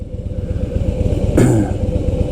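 A 2022 Triumph Rocket 3R cruiser engine rumbles steadily and close on a test ride, its deep throbbing pulses continuous throughout, with a brief brighter swell of engine note partway through.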